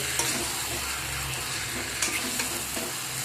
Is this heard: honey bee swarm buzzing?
no